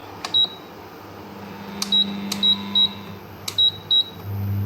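A kitchen timer is set with a series of short, sharp electronic beeps, about seven chirps at uneven intervals, each with a faint click, over a low steady hum.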